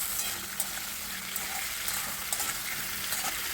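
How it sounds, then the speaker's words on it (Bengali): Potatoes and kakrol (spiny gourd) frying together in a pan, a close, steady sizzle of hot oil with light stirring scrapes and small pops throughout. "দিয়ে আলুটাকেও কাঁকরোলের সাথে ভেজে নিতে হবে।"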